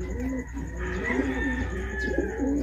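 Domestic pigeons in a fancier's loft coo close by, a run of low, rolling, throaty calls that overlap and repeat steadily with no talking.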